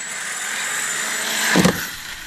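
A radio-controlled car at a bash with ramps spins a tire, giving a steady high-pitched motor whine, then a brief louder scrabbling burst near the end.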